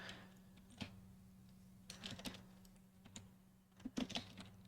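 Keys on a computer keyboard are typed during a market review of mini-index and Nasdaq charts. Scattered, quiet keystrokes and short clusters of taps come through close by, with no speech over them.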